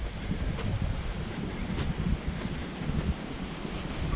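Choppy sea with whitecaps off the Magaluf promenade, waves washing in a continuous rough wash mixed with gusting wind buffeting the microphone, fairly faint and steady with no voices.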